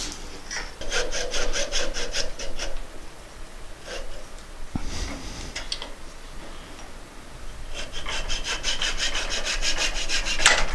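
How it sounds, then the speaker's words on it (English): A handsaw cuts through a wooden burl in steady back-and-forth strokes, up close, with a short pause partway before the rhythmic rasping resumes. "I'll just use a handsaw to finish off that cut."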